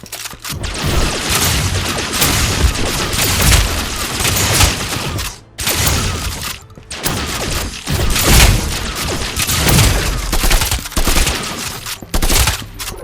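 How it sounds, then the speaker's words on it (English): A plasma shotgun in a Halo-inspired first-person shooter fires repeatedly in rapid, dense bursts, loud and continuous with brief gaps between volleys and booming impacts. "I made a plasma shotgun just to see what it would be like."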